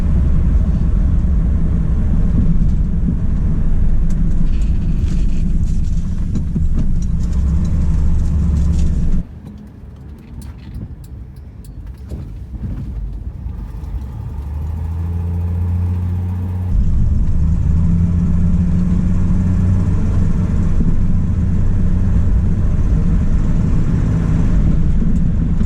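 An early Ford Falcon with newly rebuilt drum brakes gives a steady low engine rumble from inside while driving. The rumble dips to a quieter, lighter stretch midway, then returns to full strength.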